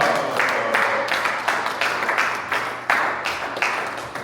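A crowd at the CPBI International Congress Expo 2024 claps in unison for a speaker from the United States, a loud, close rhythmic beat of synchronized claps repeating roughly three times a second.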